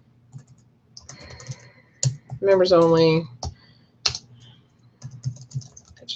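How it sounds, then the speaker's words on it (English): Keystrokes on a computer keyboard as tags are typed into WordPress, scattered light clicks in short bursts, close and quiet, with someone briefly speaking in the middle. "So you would start typing them in here."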